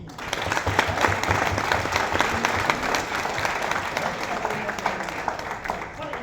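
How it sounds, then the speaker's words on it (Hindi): Dense, sustained audience applause for hotel staff fills the room, many hands clapping evenly and loudly throughout, with a voice faintly present under it early on. "एक बार तालियां तो उनके लिए बजती हैं।"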